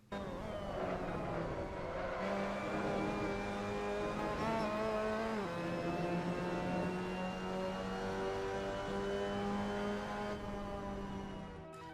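A Mazda MX-5 Cup race car in the Assetto Corsa game laps the Assen circuit, its engine loud and continuous as it revs up through the gears, drops on downshifts and climbs again, close and alone with no talk.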